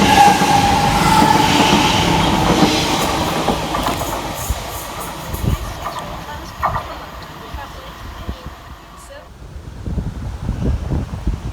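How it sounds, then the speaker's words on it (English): Class 345 Elizabeth Line train 345060 pulls out of Harold Wood station, a loud rolling rumble and wind buffeting that gradually fade as the train draws away. "we're going to kick it off with 345060, departing with the 11:15 Elizabeth Line service from London Paddington through to Shenfield"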